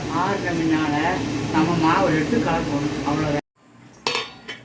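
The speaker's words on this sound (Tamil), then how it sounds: "இது ஆற வச்சதை இந்த மாவில் நம்ம கலந்துடுறோம் கலந்து நல்லா கிளறி விடுறோம்" A spoon clinks against a bowl as cooled onion seasoning is stirred into rava dosa batter, with steady scraping and clattering under a woman's speech, then a sudden drop to near silence broken by a few light knocks.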